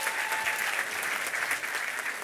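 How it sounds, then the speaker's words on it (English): A crowd gives a round of applause at the opening of the Judkins Park and Mercer Island light rail stations. The clapping is steady and continuous, close and lively, and lasts about two seconds. "Give her a round of applause"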